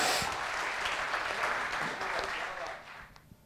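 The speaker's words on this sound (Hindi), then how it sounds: "एक बार जोरदार तालियों से स्वागत कीजिए मंच पर धीरेन्द्र सिंह का।" A crowd at a college art event welcomes a speaker to the stage with loud applause. Many hands clap densely and steadily, then the applause fades out at the end.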